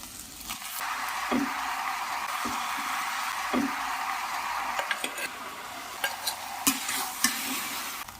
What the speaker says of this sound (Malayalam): ഇനി ബീഫ് മാരിനേറ്റ് ചെയ്ത് വെച്ചിരിക്കുന്ന ഒന്ന് ഇളക്കി എടുക്കാം